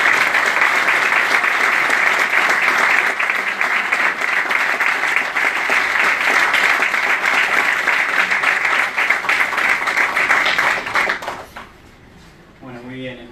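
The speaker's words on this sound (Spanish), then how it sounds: "pedir un fuerte aplauso para ustedes" Strong applause at an award ceremony for a human rights distinction, dense clapping from an audience sustained for about eleven seconds before fading abruptly into quieter room sound.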